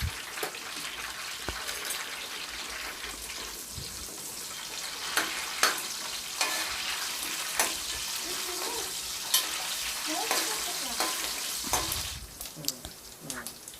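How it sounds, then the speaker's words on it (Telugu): Chopped green chillies and curry leaves fry in hot oil with a steady bright sizzle, broken by spoon scrapes and stirring knocks, close and continuous throughout. "ఈ ఆయిల్లోనే సన్నగా కట్ చేసి పెట్టుకున్న పచ్చిమిర్చి వేసుకొని కరివేపాకు కొంచెం వేసుకొని ఫ్రై చేసుకోవాలి"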